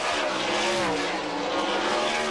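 A NASCAR Winston Cup race car roars loudly past the start-finish line at Watkins Glen International, a steady close engine howl with a slight pitch shift as it passes.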